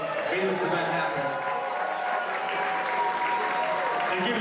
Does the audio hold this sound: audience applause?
yes